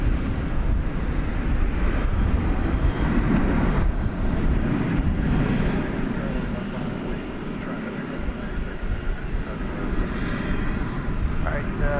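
An American Airlines Airbus A321 jet departs DFW at night, its engine roar a broad, steady rumble that swells and holds throughout with slight fading midway, while faint radio chatter and voices sit underneath.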